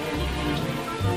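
Steady rain pattering on a surface, a dense, even hiss with low rumbling underneath, in a theme-park ride recreation of the rain scene from the 1952 musical Singing in the Rain.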